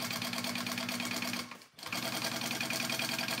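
A sewing machine bastes a bowler bag panel, a close, steady rhythmic whir that briefly pauses midway before resuming at the same pace.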